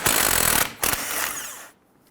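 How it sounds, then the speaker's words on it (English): A power tool whirs loudly as a 21mm socket loosens the tie rod nut on a 2011-2021 Jeep Grand Cherokee front wheel hub, with a brief pause before a second burst that then winds down to silence. "Using a 21mm socket, go ahead and loosen and remove your tie rod and nut."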